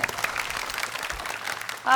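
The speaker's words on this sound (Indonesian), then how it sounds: "Nah ini tepuk tangan lagi dong." Vocational high school students applauding at a school job-matching event, a steady wash of many hands clapping from a crowd lasting the whole moment, with voices mixed in.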